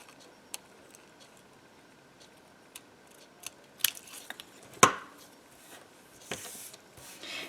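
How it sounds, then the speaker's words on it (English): Scissors trim the ends off a paper piece with a few sharp, sparse snips and clicks, close and fairly quiet, against near silence and with no talk. "I can just trim off the ends here"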